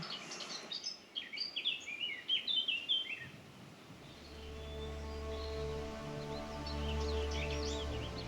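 Small birds chirp in quick bursts early on along the Mare a Mare hiking trail, then a steady low hum takes over with faint twittering continuing in the background.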